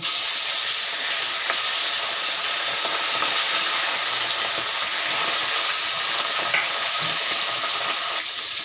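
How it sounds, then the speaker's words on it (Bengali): Swordfish (ribbonfish) pieces fry in hot mustard oil in a heated pan, giving a loud, steady, close sizzle and hiss that continues unbroken throughout, with faint spatters and no talking. "তো দেখুন বন্ধুরা, কড়া গরম হয়ে গেছে, এবারে আমি মাছগুলো ভেজে নেব।"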